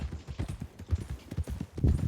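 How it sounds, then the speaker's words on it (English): A horse's hooves clip-clop steadily in Red Dead Redemption 2, a big horse walking at an even rhythmic pace, close and clear with no talk over it. "It is a big horse."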